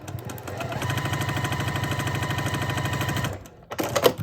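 A sewing machine rapidly stitches two small quilt fabric triangles together in a fast, steady mechanical chatter lasting about three seconds, then stops, followed by a brief rustle of handling.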